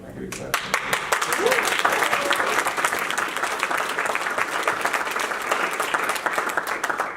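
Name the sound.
audience applause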